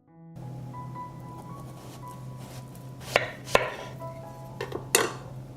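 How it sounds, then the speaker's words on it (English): A knife cuts peeled, large zucchini into thick rings on a board, giving a few distinct chopping thuds late on over a steady low background hum. "I cut the peeled zucchini into thicker rings."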